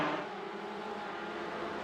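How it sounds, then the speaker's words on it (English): Porsche Cup race cars lapping the Nürburgring in the iRacing video game, a steady broadband engine drone of cars going around, with no speech. "You can just hear these Porsche Cup cars going around from Niels Benedict."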